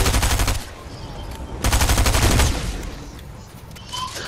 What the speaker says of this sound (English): Us getting sniped at.